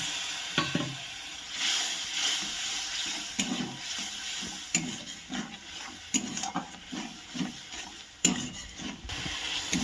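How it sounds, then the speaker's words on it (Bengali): Spice paste sautés in oil for Bengali-style katla fish kalia with a light sizzle under repeated scraping and stirring strokes in the pan, moderately quiet and close, with no talking. "এবার এর মধ্যে আমি সামান্য একটু জল দিচ্ছি এবং মশলাটাকে ভালো করে কষিয়ে নেব।"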